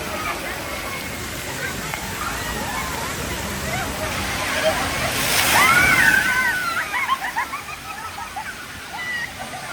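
Water spills from an elephant statue's head at a water park, a broad steady splashing wash under crowd noise and voices, growing louder for a moment midway.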